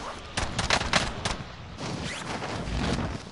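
Pistol gunfire in a PS4 online shooter battle, a burst of several sharp close shots early on, then a quieter stretch with further faint shots and rumbling game noise behind.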